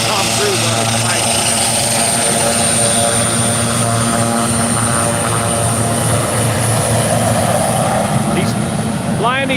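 A propeller air tanker at Nevada County Airport (KGOO) taxis back to base during the Highway Fire. A loud, continuous engine and propeller roar runs throughout, with voices mixed in beneath it.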